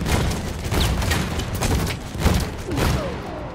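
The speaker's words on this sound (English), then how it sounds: "Oh look, I'm hitting the airship with the tank." Dense, loud battlefield noise from the video game Battlefield 1 as a tank fires at an airship, with heavy booms and rumbling blasts layered over constant roaring gunfire.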